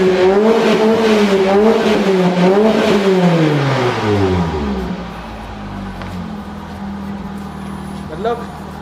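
Modified Maruti Gypsy King with header exhaust and a Race Dynamics ECU, revving up in a few rising and falling sweeps, then settling to a lower, rougher idle. Loud and close.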